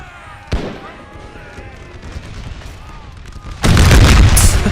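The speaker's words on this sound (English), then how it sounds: "Look how fast they're firing." Rapid musket gunfire in the North & South American Civil War mod, a sharp volley near the start and then a dense roaring fusillade at the end, with a voice talking in between.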